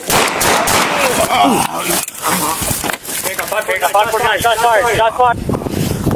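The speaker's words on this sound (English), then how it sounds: "Shots fired." Gunshots ring out during a police welfare-check shooting in Bradley, Illinois, captured on a body camera: sharp, loud cracks burst out amid officers shouting commands, with wind buffeting the microphone and tense talk throughout.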